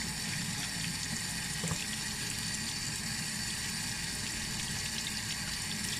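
Running tap water pours steadily into a sink while a soapy Olson mask is rinsed, a continuous close rushing splash with no talk.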